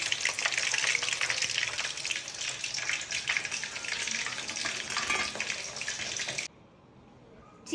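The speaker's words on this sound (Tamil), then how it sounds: "பொன்னிறமா வறுத்துக்கலாம்" Chicken pieces fry until golden in hot oil, giving a steady, dense crackling sizzle close by that runs for about six seconds and then cuts off into near silence.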